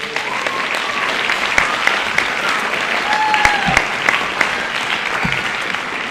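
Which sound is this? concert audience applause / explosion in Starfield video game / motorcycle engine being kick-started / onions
concert audience applause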